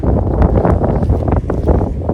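Strong wind sweeps across a coriander field during harvest threshing, producing a loud, continuous rumbling buffet against the microphone with no voices.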